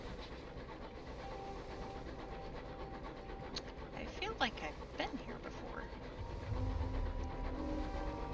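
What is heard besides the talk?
distant engine yard clamor in the video game Sunless Skies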